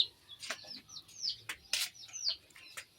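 Chicks chirp in quick, high, bright peeps, several overlapping calls close by, along with soft rustling and light movement.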